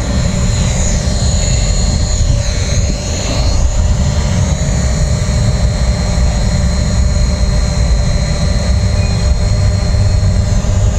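A DJI Mavic Pro quadcopter drone takes off and hovers close by, its propellers making a loud steady whine and buzz that holds level throughout with a brief pitch sweep early on.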